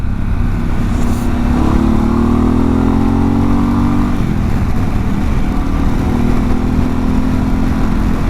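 A Harley-Davidson Pan America adventure motorcycle rides offroad lanes past an old quarry, its engine droning loud and steady throughout with rising and falling pitch as the rider works the throttle, under heavy wind rush.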